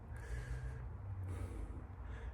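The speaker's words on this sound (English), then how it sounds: "Can still hear my breathing still up." Heavy, ragged breathing after a heavy axle box squat of about 380 kg, close and fairly quiet, with a few sharp snorting inhales and exhales.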